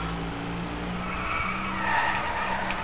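Car tires skidding and squealing through a drift in the Driveclub racing game, a sustained loud screech over engine roar that swells near the end.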